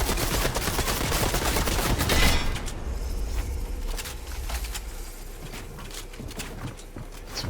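AR rifle fire in a shooter video game rattles in dense rapid volleys, loud and crowded for the first couple of seconds, then continuing as quicker, somewhat softer overlapping shots and distant pops.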